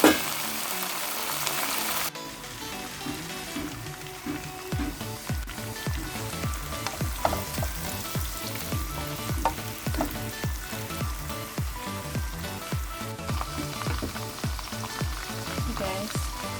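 Shrimps fry in a pan for palabok sauce with a loud, steady sizzle that runs throughout, alongside rhythmic scraping and stirring strokes.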